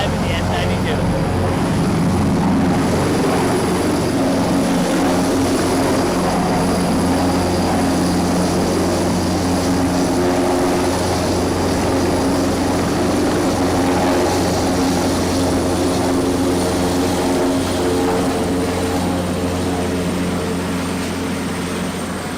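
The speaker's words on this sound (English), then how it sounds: "Always at helicopter arrivals, they got the best helicopters coming in at the end, 225 and the S92." Sikorsky S-92 and Airbus H225 helicopters arriving at a Verticon helicopter event, a loud continuous rotor and turbine roar with steady harmonic drone that stays close and sustained throughout.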